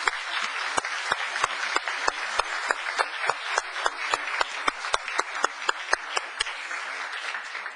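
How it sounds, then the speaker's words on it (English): Applause for newly appointed youth commissioners at a town council meeting: a modest crowd claps steadily, with sharp individual claps standing out over a continuous patter, sustained throughout at moderate loudness. "Let's give them a round of applause."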